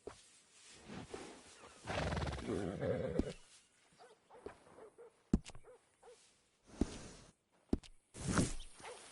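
A horse in the video game Red Dead Redemption 2 snorts, whinnies and shifts its hooves in short irregular bursts, close up and fairly quiet, with silent gaps between them.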